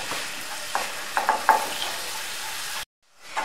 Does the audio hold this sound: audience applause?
no